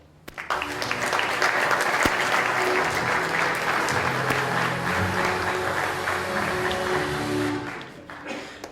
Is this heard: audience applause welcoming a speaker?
yes